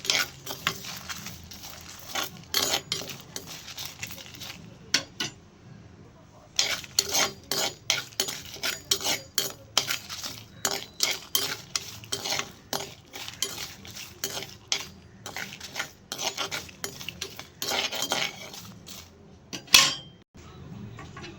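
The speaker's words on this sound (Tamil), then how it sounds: "அது கூடவே கொஞ்சம் கருவேப்பிலையும் போட்டு கொஞ்சம் நல்லா வறுத்துக்கணும்" Sesame seeds, dried chillies and curry leaves dry-roasting in a pan while a spoon stirs, a busy run of close metallic clinks and scrapes with brief pauses, no talk.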